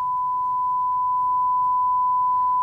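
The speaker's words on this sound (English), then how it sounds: "here's how the regular sine wave sounds." A steady, pure sine wave test tone holds at one constant pitch for under three seconds, clean and unwavering, with a faint low hum beneath it.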